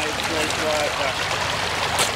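Broadband rushing and trickling of a river stream in St Ann, Jamaica, steady and close throughout, with a few faint voices mixed into the water noise.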